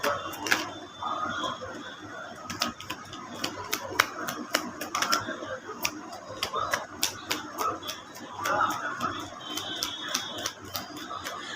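A deck of tarot cards is shuffled by hand, producing rapid, crisp clicking and flapping riffles in irregular bursts, close and fairly quiet, with occasional soft voice in the background.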